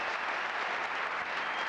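Spectators at the 1993 British Open squash final applaud a backhand drop shot, a dense, steady burst of clapping filling the court throughout.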